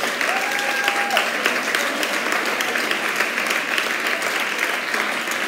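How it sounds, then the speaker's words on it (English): Steady, full applause from a school audience at a secondary prize-giving ceremony, continuous and evenly loud throughout with no talking over it. "Give a round of applause."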